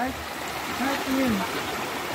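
A river runs over stones where people are washing clothes, a steady close rushing and gurgle of water, with a voice speaking briefly over it.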